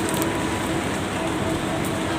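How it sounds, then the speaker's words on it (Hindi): Steady broadband hiss of rain falling on surfaces, continuous and fairly loud throughout with no clear pauses. "it started raining"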